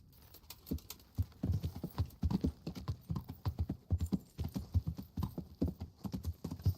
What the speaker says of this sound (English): I'm gonna leave my horse down here.